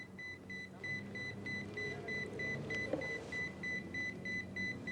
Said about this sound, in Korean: 무선 호출기 삐삐.